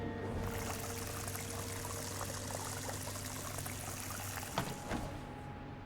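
Water pours steadily in the Crime Scene Cleaner: Biohazard video game, a continuous near splashing stream with a low steady hum beneath and a couple of brief clunks near the end.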